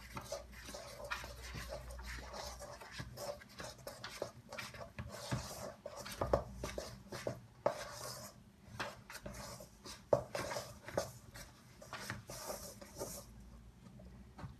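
Soft scraping, tapping and stirring sounds as yeast, water and flour are mixed by hand into dough for a maroilles tart, quiet and irregular throughout, with faint background noise.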